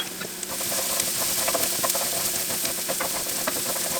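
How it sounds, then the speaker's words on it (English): Tomato paste is stirred into a homemade spaghetti sauce, giving a steady sizzle and soft hiss from the pan with faint scraping of the spoon, continuous and close. "And we'll stir that in really quickly."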